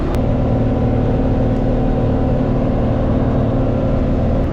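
A tractor at full throttle in second gear pulls a 2015 New Holland RB450 4x5 round baler with crop cutter, giving a steady, loud, continuous low engine drone and mechanical rumble with no talk.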